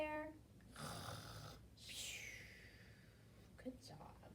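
A person imitates a bear snoring in a quiet room, with a few breathy, rasping snore-like sounds at close range, soft and uneven, some with a whispery hiss.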